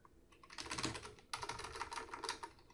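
Someone types a password on a computer keyboard while creating a web hosting account: a close, quick run of key clicks in two bursts with a brief pause between, no voices.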